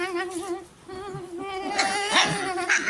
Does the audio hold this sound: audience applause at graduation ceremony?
no